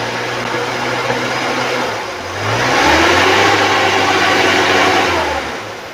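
A 2001 Suzuki Carry Extra engine idles smoothly and then revs up to a higher, steady RPM, a loud close drone that holds for a few seconds before easing back down.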